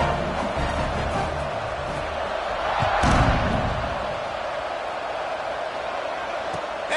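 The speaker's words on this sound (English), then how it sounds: "this crowd is buzzing after that last score" A large football stadium crowd at a Penn State game buzzes with a dense, sustained roar after a score, swelling briefly with a louder burst midway. It is heard from a distance, beneath faint commentary.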